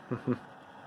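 A man vocally imitates a train horn with two quick hooting syllables, close and quiet, followed by near silence.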